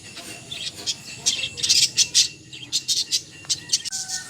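Pet lovebirds in a cage call with sharp, repeated high chirps and squawks, coming in quick bursts close by over a faint low rumble.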